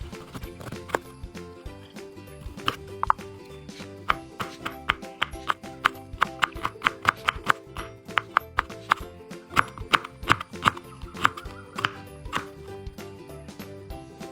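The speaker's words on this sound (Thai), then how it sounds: "หั่นแครอท" Rapid knife chopping through carrot on a cutting board, a steady run of sharp close taps over soft background music.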